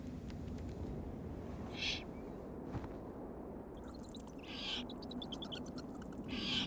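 An eagle owl calls faintly at night along the River Rhine, its low hoots set in a steady background hiss, with a few brief high bird chirps toward the end.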